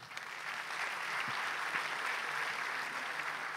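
An audience at the opening ceremony of a francophone film festival applauds, a steady, moderately distant wash of many hands clapping that holds evenly throughout with no voices over it.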